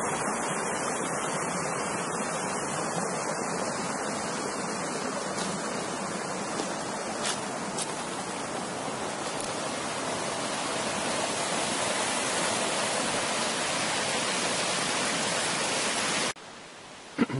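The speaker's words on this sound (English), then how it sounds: "Falling water can do that." Water falls steadily near a mill on a hike, a broad continuous rushing roar that stays even and fairly close throughout, with no voices.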